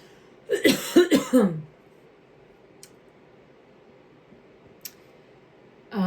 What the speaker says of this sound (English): I'm going to cough, everyone